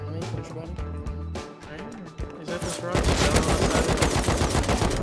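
Gunfire in a multiplayer shooter game set around a cargo compound, with rapid automatic bursts that thicken into dense continuous fire in the second half, mixed with voices talking over it.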